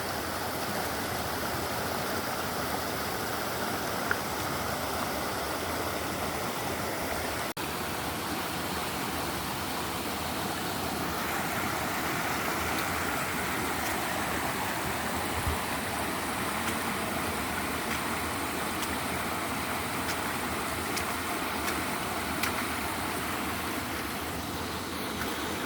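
A river stream rushes across a water crossing on a Peak District walking loop, a steady, close, broadband wash of flowing water that runs unbroken throughout with no voices.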